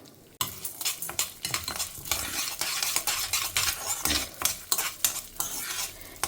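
Urad dal and chana dal roast in hot oil, loud close sizzling punctuated by rapid rhythmic scraping of a spoon against the pan during constant stirring.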